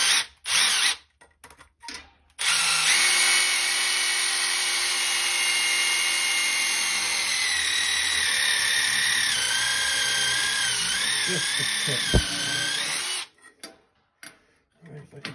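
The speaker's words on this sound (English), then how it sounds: "I'm gonna drill it out" A power drill drills out a stuck part of a Robert Shaw gas valve on a Weil McLain EG75 gas steam boiler, whining loudly and steadily for about ten seconds, with brief speech and handling clatter before and after.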